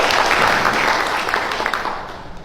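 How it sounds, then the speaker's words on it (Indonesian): An audience at a formal gathering with a governor claps together in a dense burst of applause that gradually fades toward the end. "kita berikan tepuk tangan dulu"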